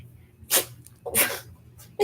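A small dog sneezes twice in quick succession, close and sharp, each a brief burst of breathy snort, with quiet room noise between.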